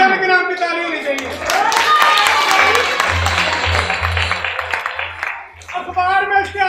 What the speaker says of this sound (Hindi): कंबोजा के नाम की ताली होनी चाहिए